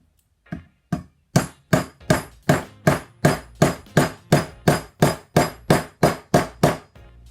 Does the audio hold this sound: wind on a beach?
no